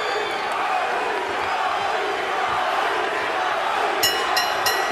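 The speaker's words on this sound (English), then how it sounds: "Mikey Garcia woke up the crowd in Corpus Christi with some fireworks in round six" A boxing arena crowd in Corpus Christi roars steadily through round six, a dense wash of cheering and shouts with a commentator faintly under it.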